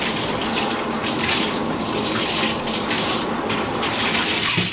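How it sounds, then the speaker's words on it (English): Running tap water rinses the lenses of an M40 series gas mask, a steady, close gushing and splashing that continues without pause. "Rinse them out."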